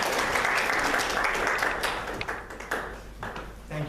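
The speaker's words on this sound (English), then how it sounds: "Give her a big round of applause." Audience applause for a guest invited on stage at a Toastmasters speech, a steady broadband clapping wash that gradually thins over four seconds, with a few isolated claps toward the end.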